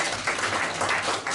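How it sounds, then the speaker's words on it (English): Brief crowd applause at an indoor fashion show event, dense steady clapping held at a moderate level for a moment. "I just want y'all to give him a round of applause."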